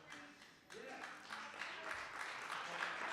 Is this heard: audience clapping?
yes